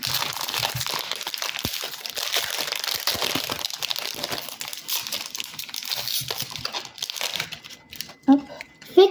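Lorcana card booster pack wrappers crinkle and crunch in close, busy bursts of rustling, with a few louder crackles at the end while people talk quietly.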